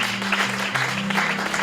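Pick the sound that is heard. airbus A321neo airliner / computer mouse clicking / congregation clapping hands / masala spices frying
congregation clapping hands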